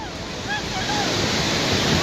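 A mudslide flood of mud and rocks surges through a town in southern Peru after a landslide, making a loud, continuous rushing roar that builds slightly over two seconds.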